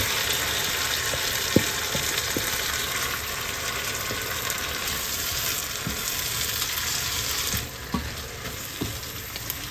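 Squid sizzling and frying in a hot pan, a steady crackle with occasional soft pops and clinks, close by and with no voices.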